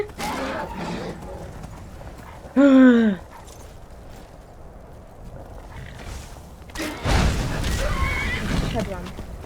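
Horse neighs and whinnies in Skyrim, a single rising-and-falling call cutting clearly above the game's ambient sound, with clip-clopping hooves nearby before and after and people talking over it.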